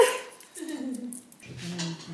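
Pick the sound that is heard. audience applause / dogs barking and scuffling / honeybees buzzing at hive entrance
dogs barking and scuffling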